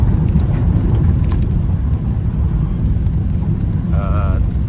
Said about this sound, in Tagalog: Grabe yung ulan dito.